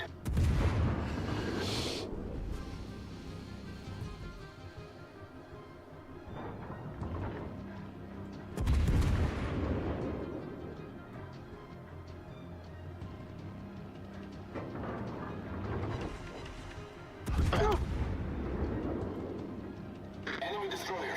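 Naval artillery in World of Warships: Legends fires heavy booming salvos, three of them spaced several seconds apart, each with a deep rumbling tail, while voices talk over the battle noise.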